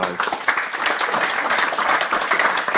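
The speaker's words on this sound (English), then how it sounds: "we really ought to give our host a round of applause for his hospitality" Guests at an Eid party in Rotherham give their host a round of applause, brisk continuous clapping from a crowd throughout, fairly close and loud, with voices faintly mixed in.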